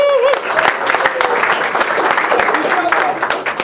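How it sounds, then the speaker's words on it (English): A conference audience at a geospatial meetup bursts into a sustained round of applause, dense clapping filling the room steadily from start to finish before the presenter begins. "All right, please, round of applause."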